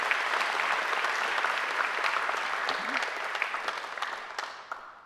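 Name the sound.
applause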